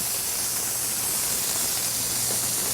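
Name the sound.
onions sizzling in hot olive oil in a pan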